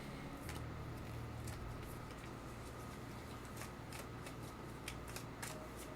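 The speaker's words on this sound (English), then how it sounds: "So just shuffling the deck one more time before we get this match underway." A deck of cards being shuffled before a card game match, soft repeated riffling and crisp clicking bursts spread across the span over a steady low hum, no talking.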